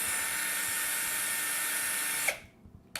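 A power drill whines steadily, clearing leftover plastic from the hole in a doll head, a loud high-pitched buzz running for a couple of seconds before cutting off abruptly, followed by a small click.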